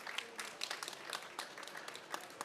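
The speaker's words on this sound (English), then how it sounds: "Give him a round of applause," Faint applause from the audience of a panel discussion on water and food security at the COP29 climate conference in Azerbaijan, with individual claps audible within a soft, scattered patter.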